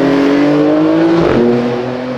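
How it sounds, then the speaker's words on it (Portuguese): A Porsche engine roars loudly as it accelerates, a rising harmonic growl that shifts pitch briefly midway and carries on strong to the end. "O ronco da Porsche."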